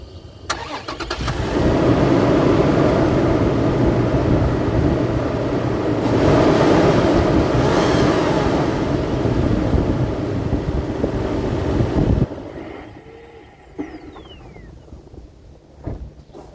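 A 2023 Toyota 4Runner engine runs steadily, swells through a couple of revs, then drops back to a lower idle before cutting out, heard close and loud with no talking.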